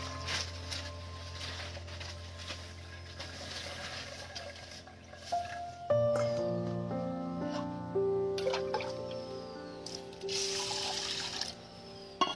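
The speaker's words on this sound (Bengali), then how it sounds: "আমি এই দিয়ে 3 বার ধুচ্ছি, কিন্তু এবার জল অনেক ফিল্টার হয়ে এসছে" Masoor lentils are washed in water, with soft swishing and trickling in a bowl and a few ringing, tonal clinks that grow louder partway through, no talking.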